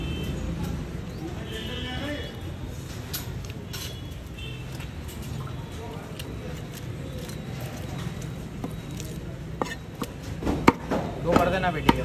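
A knife chops a live snakehead fish at a busy Indore fish market, sharp thuds landing sparsely and then quickening into a louder cluster near the end, over steady market bustle and people talking.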